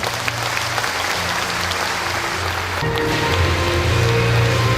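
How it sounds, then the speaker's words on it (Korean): Audience applause at the 2014 Istanbul in Gyeongju opening ceremony, a dense, rain-like wash of clapping from a large crowd, steady and loud with a faint tonal hum beneath. "여러분 다시 한번 축하의 박수를 보내주시기 바랍니다."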